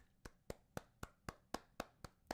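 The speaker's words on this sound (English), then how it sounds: "A little golf clap for him." A slow, light golf clap for Baltimore Ravens quarterback Lamar Jackson: about nine soft, evenly spaced handclaps, close and quiet, with no voices.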